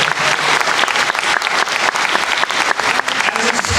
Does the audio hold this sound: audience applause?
yes